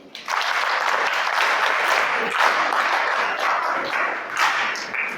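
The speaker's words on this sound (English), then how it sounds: "Can you even give them a hand clap?" An audience at a talk gives a sustained round of applause, dense steady clapping that starts suddenly and holds for about five seconds, filling the room.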